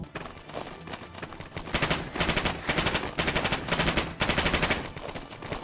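Rapid machine-gun bursts in the VR shooter Honor & Duty, loud rattling volleys in pulsing clusters after a quieter start, with no talking.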